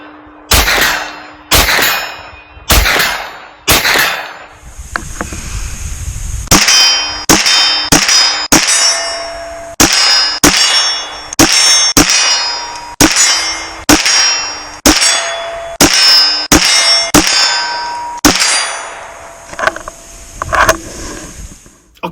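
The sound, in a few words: Ruger PC9 carbine shots hitting steel targets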